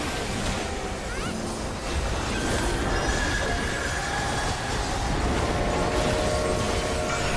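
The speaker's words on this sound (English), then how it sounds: "I'll be listening to the choo-choo train" A train in the Final Fantasy XIV video game rumbles along on its rails with a dense, continuous roar and high squealing wheel tones. The noise stays loud and steady throughout.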